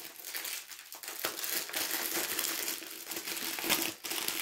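Plastic wrapping from a diamond painting kit crinkling and crackling close up during unboxing, a steady run of sharp rustles with a few brief pauses.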